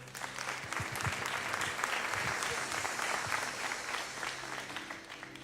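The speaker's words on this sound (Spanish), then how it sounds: "Recibamos con un fuerte aplauso, por favor" Sustained applause from a sizable congregation at a church gathering, even and continuous, heard from a moderate distance with no voices on top.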